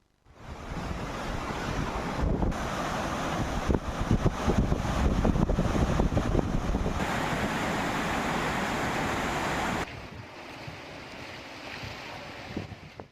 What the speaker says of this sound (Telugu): దీంతో సంగంబండ డ్యాం వద్ద 5 గేట్లను ఎత్తి దిగువకు విడుదల చేస్తున్నారు